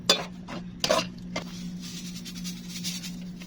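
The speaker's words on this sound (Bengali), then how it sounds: "এরপর আমি একটু নাড়িয়ে দেবো মশলাগুলো যাতে মিক্স হয়" A spoon scrapes and clanks against a pot while spices for chicken and potato curry are stirred. A few sharp metallic knocks come early, then softer scraping continues over a low steady hum.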